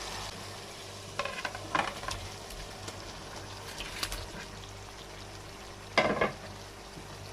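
Spinach kofta gravy masala, thickened, sizzles and fries in a pan with a steady low hiss, broken by a few brief louder bursts of spattering or stirring, the strongest near the end; no one speaks.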